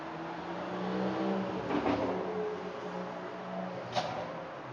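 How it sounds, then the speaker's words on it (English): Constant road traffic outside a room makes a steady, muffled low rumble that never lets up, with a couple of faint passing swells and no voices. "the traffic is so loud because it's so quiet and it just never stops."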